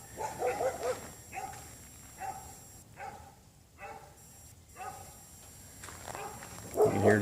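Dogs bark in short separate bursts, several yaps spread across the clip at moderate distance, outdoors at a tractor dealer's yard, with a louder bark at the very end.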